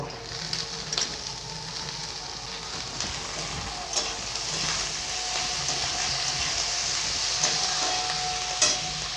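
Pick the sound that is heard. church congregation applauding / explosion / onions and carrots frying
onions and carrots frying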